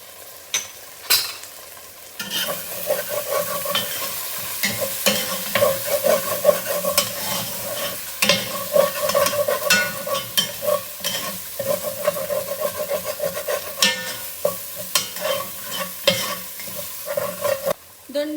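Turmeric and chilli powder sizzling in oil with tomato in a pan, a continuous loud frying hiss under repeated spoon scrapes and stirs, no voice.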